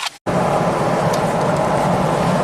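A Jeep Rubicon with a limping engine and camshaft position fault codes being driven, a steady, loud engine and road drone from inside the cabin after a brief silent gap at the start.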